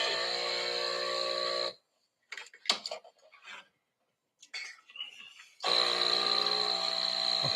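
An espresso machine's grinder whirring loudly and steadily, stopping for a stretch filled with light clinks and handling noises and soft talk, then starting up again with the same dense grinding drone.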